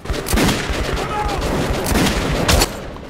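Gunfire in the video game Metro 2033 Redux, played on Ranger Hardcore: several loud, close shots in quick succession over a busy game background.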